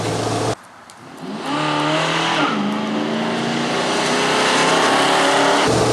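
A steady, loud Chevrolet C10 pickup truck engine drones while driving, with a rising engine tone after a brief dip, as if heard from inside the cab.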